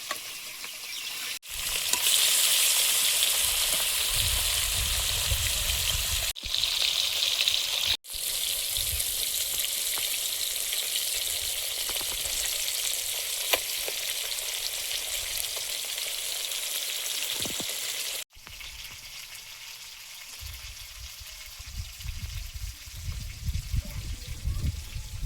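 Fish frying in a pan with hot oil, a steady bright sizzle running throughout with low rumbling bursts, broken by a few brief cuts.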